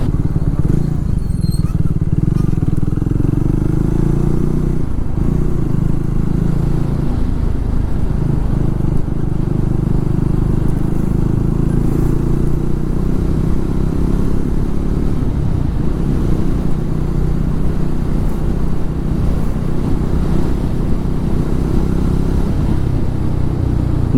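A Triumph Tracker 400 motorcycle ridden through city streets, a loud steady engine drone with wind rumble throughout, close and unbroken, without talk.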